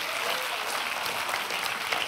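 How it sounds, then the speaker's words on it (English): A church congregation claps during a sermon, a brief burst of steady, dense applause from many hands filling the room at even loudness, with no voices on top. "Would you clap your hands and thank him for that hope?"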